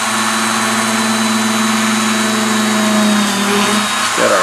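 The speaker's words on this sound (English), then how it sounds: "So we've just got our Dremel out here," A Dremel rotary tool drills a hole for an LED in a small model, a loud, steady high-pitched whine lasting throughout that shifts and drops slightly near the end as the bit bites in, close and alone.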